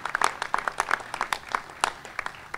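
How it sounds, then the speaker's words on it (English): Applause from an audience at a business announcement event in Richmond, sounding as scattered, uneven claps with distinct individual hand strikes rather than a dense roar, fairly close and moderately loud. "Let's give them a round of applause for the work that they are doing"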